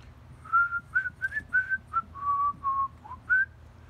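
A person whistles a short tune of about ten clear, bright notes, some held and some clipped, loud and close over a low steady hum.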